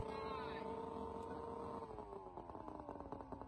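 A motorboat driven up a boat ramp with no trailer, its engine whining and sliding down in pitch as the hull grinds and knocks against the ramp with rough, uneven bursts.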